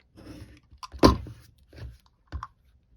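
Scissors cut paper pieces for an envelope journal, a few separate crisp snips and crunches with one louder cut near the middle, close and quiet with no talk.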